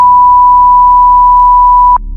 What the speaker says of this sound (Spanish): ahí le pones el bip a esta cosa porque va a valer gorro